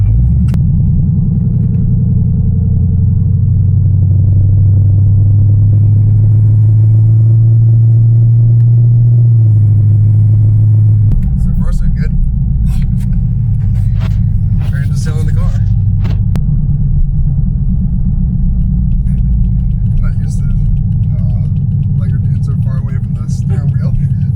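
Chevrolet C5 Corvette engine running after a transmission and differential install, a loud deep steady idle rumble that shifts pitch midway, with clicks and bumps nearby and people talking over it.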